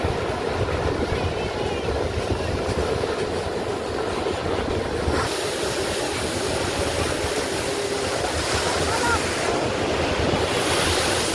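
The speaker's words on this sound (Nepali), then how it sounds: "समुद्रको भिडियो आयो छल्को मार्दै" Sea waves crash and wash onto the shore in a continuous, loud roar with surging swells, close by and without talk.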